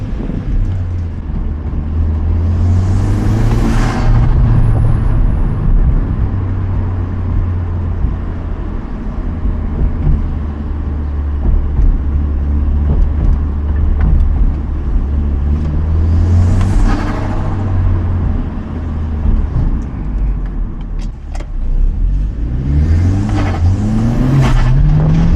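A Hyundai Genesis Coupe fitted with a K&N cold air intake and a blow-off valve rumbles loudly and close, its engine revving up and falling back in repeated pulls, with whooshing bursts and wind buffeting.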